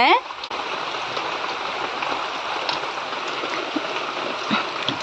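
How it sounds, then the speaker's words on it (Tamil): Steady rain falls outside a house in a heavy downpour, a continuous broadband hiss of drops that holds at an even level through the whole stretch, with a brief dip near the start. "இப்போ எப்படி மழை பெய்யுதுன்னு பாருங்கள்"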